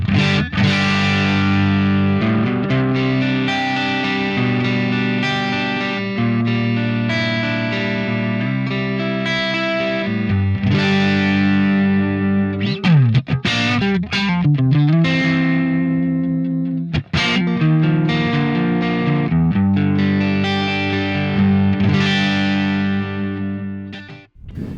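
Electric guitar played through a HeadRush amp-modeling rig with distortion, loud strummed chords and riffs running continuously for about twenty-five seconds, with a brief bending passage midway, no talking.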